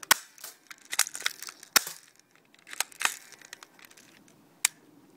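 A Crosman Pulse M74DP toy blaster fires at a barbecue grill. Rapid sharp snaps and plastic clatter come in irregular bursts, close and moderately loud, with no talking.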